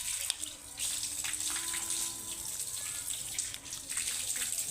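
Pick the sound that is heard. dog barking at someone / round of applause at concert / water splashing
water splashing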